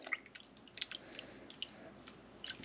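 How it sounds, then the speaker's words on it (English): Water trickling and dripping while a razor clam is rinsed out, soft wet splashes and small drips close by for a couple of seconds, faint and without talking. "Rinse this out."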